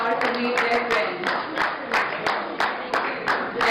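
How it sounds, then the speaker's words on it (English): A reunion audience of batchmates claps in a steady rhythm, with a crowd of hands keeping a pulsing beat throughout and voices talking over it. "Please step forward and a big round of applause"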